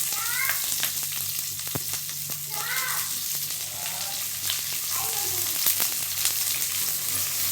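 Onions sautéing in hot oil with fennel seeds, mustard seeds and curry leaves for an egg curry, a steady close sizzle with scattered crackles and spatters, faint voice-like murmurs in the background.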